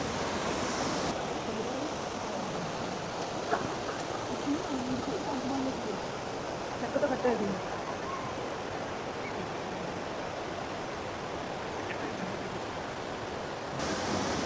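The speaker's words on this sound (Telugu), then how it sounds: "ఇదంతా వాటర్ ఫాల్." Large waterfall in Wales, heard as a steady, unbroken roar of rushing water that fills the whole scene, with faint voices now and then beneath it.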